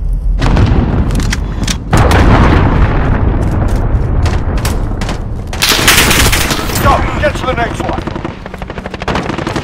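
Loud cruise missile strike explosions boom and roll in a Call of Duty: Modern Warfare Hardpoint match, layered with heavy rapid gunfire and voice lines throughout, with a dense burst of blasts partway through.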